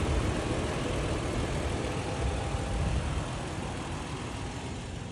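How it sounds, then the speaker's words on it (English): A 2007 Toyota 4Runner 2WD with 86K miles idles, a steady, broad engine rumble that stays even and moderately loud throughout. "The vehicle is running."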